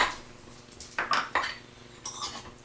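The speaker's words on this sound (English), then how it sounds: "You add the whole beans to the top" Whole coffee beans rattle and clatter as they are poured into the top of a low-cost burr coffee grinder, coming in a few short hard bursts with quiet gaps between, close and moderately loud.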